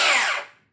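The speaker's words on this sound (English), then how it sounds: "including a battery-powered drill, a circular saw" A battery-powered drill gives a short, loud whir that spins down and fades out within a second, heard alone.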